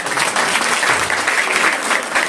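Dense, loud applause from a church audience thanking God after a Christmas drama, continuous clapping throughout the short stretch with no voices on top.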